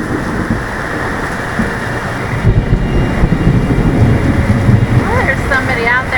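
A boat engine is throttled up while fighting strong wind, a steady low rumble under heavy wind roar and buffeting, with a voice speaking over it near the end.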